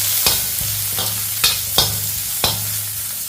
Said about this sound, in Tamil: லைட்டாக ஒரு வதக்கிடுவோம்.